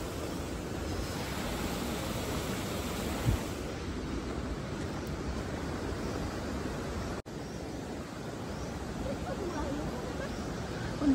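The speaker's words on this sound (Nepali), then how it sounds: "यहाँ भन्ज्याङ ए खोला आइपुग्यो" A mountain stream rushes past a hill pass in a steady, broadband roar that holds constant throughout, close and unbroken, with no clear voices over it.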